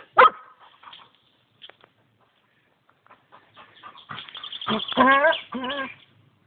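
A dog barking and yelping outdoors while hunting a bird, scattered soft sounds then a run of close, loud, strained barks and whines, with a person speaking between them.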